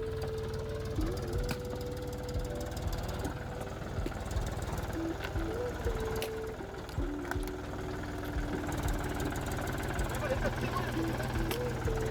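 A tractor engine runs steadily at close range, a continuous low mechanical drone with knocking pulses under it, while people talk over the top.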